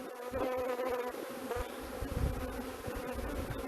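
A large captured honeybee swarm being transferred into a nucleus hive buzzes loudly and continuously, a close, dense hum of many bees with no talk.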